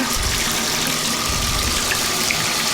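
Tap water gushes steadily into a bathtub being filled to wash sheep wool, a close, continuous rushing splash with low churning underneath and no talking.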